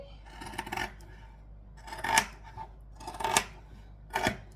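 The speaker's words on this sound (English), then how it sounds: "I love my zigzag scissors. I know they're called pinking shears." Pinking shears with zigzag blades snip through fabric during bag sewing, giving four crisp cutting bursts spaced about a second apart, close and fairly loud with no talking.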